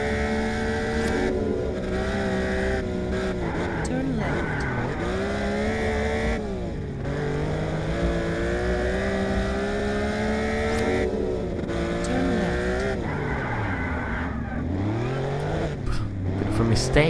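A racing car engine in the driving video game Test Drive Unlimited, running as a steady loud drone whose pitch climbs and drops through gear shifts over a timed lap. Game music or other sounds layer underneath.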